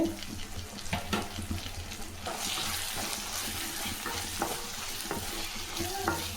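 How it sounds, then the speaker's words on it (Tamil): Onions and curry leaves sauté in a pan for roadside-style onion chutney, with a steady close sizzle and repeated scraping stirs, and no talk over it. "எல்லாம் நல்லா வதங்கிடுச்சு பாருங்கள்"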